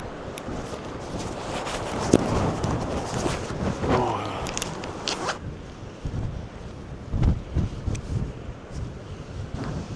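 Wind gusting hard outdoors in cold weather near the water, roaring and buffeting the microphone, with a rustling burst and a few knocks partway through; no voices.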